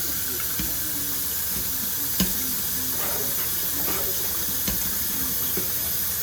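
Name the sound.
rinsing mushrooms with cold tap water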